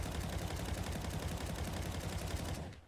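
Rapid automatic gunfire in Counter-Strike with recoil-follow crosshair enabled, a dense continuous burst of shots lasting nearly three seconds before cutting off, no talking.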